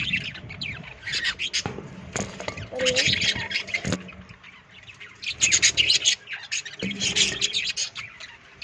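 Small lovebirds chirp and squawk in repeated bright bursts close by, while a person talks over them.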